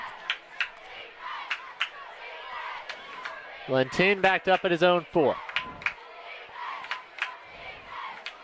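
A football crowd at Bazelone Field during a game against Bridgewater, with general murmur and a burst of loud rhythmic chanting and shouting, while a commentator talks throughout.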